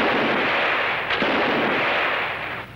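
Gunshots ring out in a 1979 Brazilian drama film scene, a loud sharp report standing out around the middle of a dense, steady noisy soundtrack with no talk.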